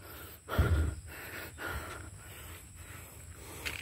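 Heavy, rhythmic breathing of someone out of breath after walking, with a strong gasp near the start followed by several quieter breaths in a steady rhythm, close to the microphone.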